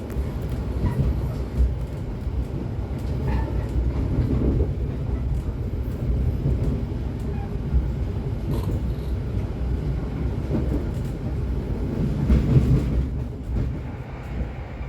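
Sembrani passenger train running on the rails from Gambir toward Surabaya, a steady low rumble and rolling clatter heard from inside the carriage, continuous throughout with swells of louder wheel noise.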